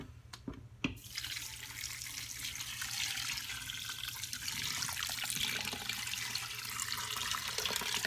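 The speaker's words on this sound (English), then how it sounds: "I'm just going to put in a whole pitcher of water" A whole pitcher of water pours steadily into an Instant Pot for bone broth, a close, continuous splashing rush after a couple of soft knocks at the start.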